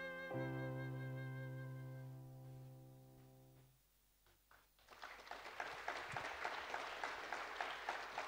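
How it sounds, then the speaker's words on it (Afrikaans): An audience applauds at an Afrikaans Christmas concert, the dense clapping rising after a sustained organ-like chord fades out and continuing strongly to the end. "Maar dankie dat julle geklap het, nie kwaad daaroor nie."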